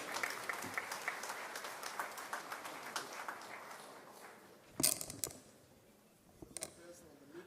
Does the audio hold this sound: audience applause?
yes